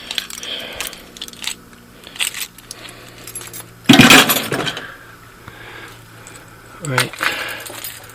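A set of keys for an old diesel tractor jangles close by in several bursts, with one loud metallic shake in the middle and another near the end. Someone briefly speaks between the jingles.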